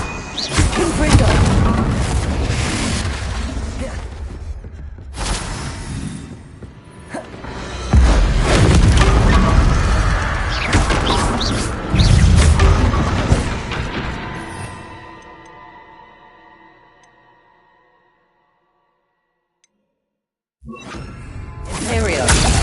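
Confringo blast spells go off in Hogwarts Legacy, several loud explosive bursts and crashes with whooshing debris, separated by quieter gaps and a stretch of near silence.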